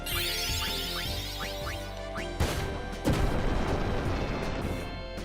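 A cannon attack fires in the game Final Fantasy IX, opening with a run of rising chirps before a heavy blast and a second louder crash that leave a rumbling, crackling tail.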